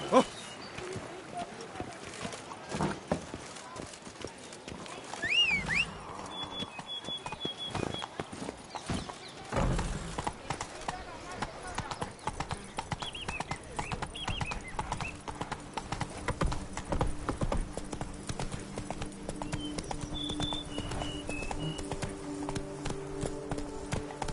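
Hooves of the horse Roach clip-clop steadily in The Witcher 3: Blood and Wine, a close rhythmic trot layered with game music and ambience, while a voice speaks over it and a brief whinny rises.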